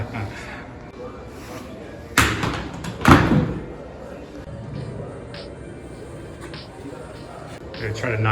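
Bocce balls are thrown and land during a casual game at a history center, two sharp thuds a second apart standing out over a steady murmur of people talking and room noise.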